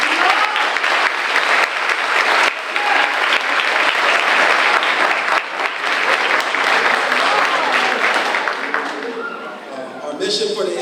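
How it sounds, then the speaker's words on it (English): Audience at an 8th grade promotion ceremony applauds loudly and continuously for about ten seconds before it tapers off, with a voice briefly heard at the end. "Please give him a round of applause."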